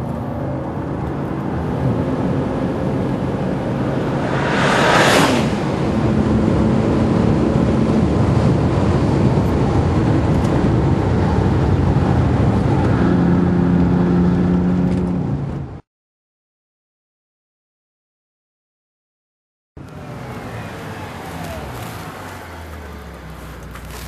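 A Bentley Continental Supersports drives laps on a track, a loud sustained roar buffeted by heavy wind noise, briefly cutting out before resuming.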